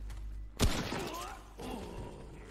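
Gunfire in the co-op shooter game Remnant: one sharp, loud shot bursts out near the half-second mark, then ringing decay and a second rumbling swell. Faint game ambience fills the gaps.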